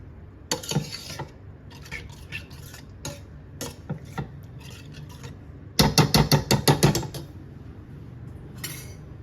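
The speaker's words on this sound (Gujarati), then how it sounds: "હવે આપણે મીઠું નાખી દીધું છે હવે આને પ્રોપર મિક્સ કરી દઈશું" Metal spoon clatters and scrapes against a pot while salt is stirred into yogurt kadhi, a run of light knocks and clinks that builds to a rapid, louder burst of strokes near the end, with no talking.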